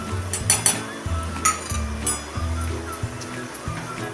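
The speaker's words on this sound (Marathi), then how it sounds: "हे आता आपण चांगलं परतून घेऊया पीठ चांगलं भाजून फुलेपर्यंत आपण हे परतून घ्यायचं आहे" Chana dal flour being dry-roasted and stirred in a pan over a medium flame, with soft scraping and light sizzling strokes under a steady low background drone.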